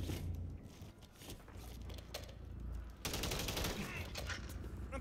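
Dense bursts of automatic gunfire in the Call of Duty Warzone video game, loud and sustained, growing heavier and more intense partway through, with rapid overlapping shots and no pauses.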